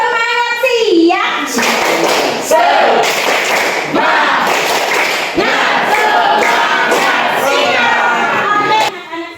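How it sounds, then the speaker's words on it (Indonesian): Classroom of children performing a rhythmic spirit clap chant, chanting together in loud shouts punctuated by sharp group claps and thumps in a patterned beat, with a teacher's voice leading at the start. "Ibu mau minta tepuk semangatnya yang paling meriah"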